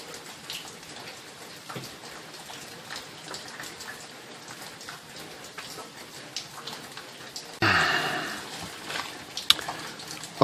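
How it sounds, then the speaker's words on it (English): Rain falls softly and steadily, a faint patter of drops on surfaces with scattered louder splashes, briefly swelling into a denser rush near the end. "it's been raining so dang hard"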